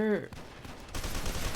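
Gunfire in the shooter game F.E.A.R. 2, a short burst of shots layered with game effects and a sustained rumble, with a brief tonal sound at the very start.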